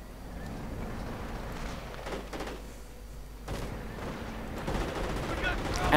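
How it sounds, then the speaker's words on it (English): A Calliope rocket barrage and gunfire in the strategy game Company of Heroes: rapid cracking shots and bursts of explosive rumble come in uneven clusters, loud and close, amid battle noise. "And the Calliope barrage right in on the Knight's Cross."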